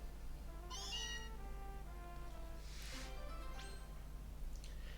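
A cartoonish cat meows with a high, chirpy tone, followed by a second meow, over a steady electronic hum in the soundtrack of Pokémon Legends: Z-A.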